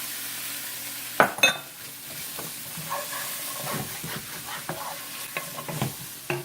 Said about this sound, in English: I'm going to go ahead and add my onions.